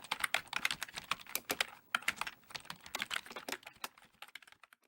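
Rapid typing on a computer keyboard, with dense bursts of crisp key clicks, short pauses between runs and the tapping thinning out at the end, heard close with no talking.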